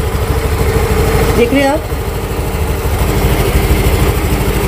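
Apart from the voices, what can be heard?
scooter engine running after start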